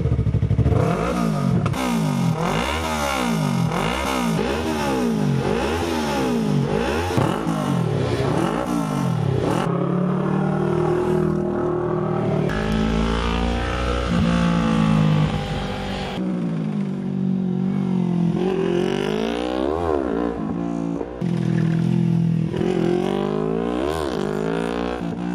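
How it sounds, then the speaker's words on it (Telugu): A racing motorcycle lapping a race track, its engine rising and falling through repeated loud revs and gear changes, continuous and close throughout with no talking. "తీరిక దొరికినప్పుడల్లా ట్రాక్లో బైక్పై రయ్యుమని"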